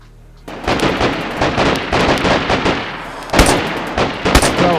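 Rapid gunfire in the survival shooter DayZ Standalone, a string of loud, sharp cracks in uneven bursts with heavier shots near the end, no talking.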